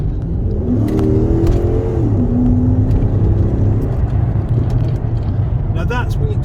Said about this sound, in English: Put my foot down a little bit here.